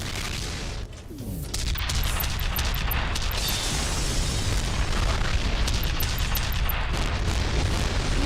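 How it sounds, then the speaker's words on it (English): Continuous heavy explosions and rumbling blasts fill a first-person shooter battle in F.E.A.R., a dense, loud barrage with bursts and crackling debris sustained throughout. "Look at all the explosions!"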